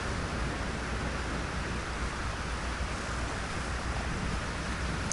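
Steady, broadband rushing water fills the scene in Elder Scrolls Online, an even, unbroken wash like flowing water or surf, with no voices.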